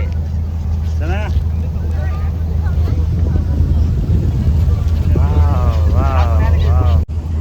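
A boat cruising on the sea near Nagaon, its steady low engine rumble and wind buffeting continuous throughout, with people chatting over it.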